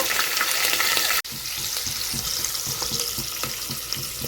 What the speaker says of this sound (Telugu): ఉల్లిపాయలు, పచ్చిమిర్చి కూడా వేస్తానండి. ఇవి బాగా ఫ్రై అవ్వాలి.